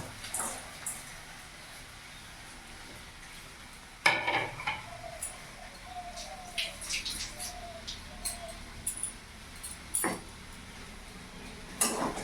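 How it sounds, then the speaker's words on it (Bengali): Fenugreek greens with potato stirred in a frying pan, a low steady sizzle broken by scraping spatula strokes and clinks on the pan. "ভালো করে নাড়াচাড়া করে মিশিয়ে নেবো"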